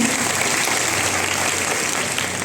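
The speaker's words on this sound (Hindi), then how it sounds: "मैम के लिए जोरदार ताली होनी चाहिए" Audience clapping at a company speech event in Nagpur, a continuous even roar of many hands, loud and sustained without breaks.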